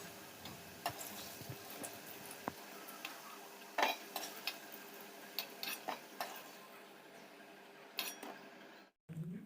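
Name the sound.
fried potatoes lifted from a wok with a ladle into a bowl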